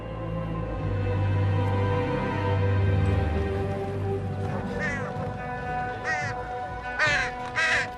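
A raven gives several harsh, rasping caws in quick bursts toward the end, close and clear above a low, steady background rumble.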